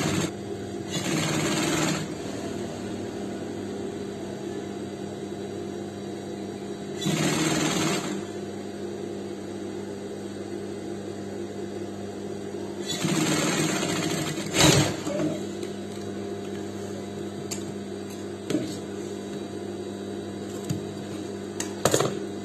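A sewing machine stitches the button placket of a Pakistani-style shirt, running in three distinct whirring bursts several seconds apart over a steady low room hum, with light handling clicks between.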